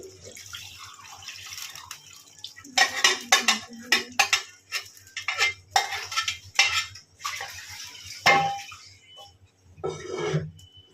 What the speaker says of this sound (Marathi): मी आता मस्त हे पीस मसाल्यामध्ये हलवून घेते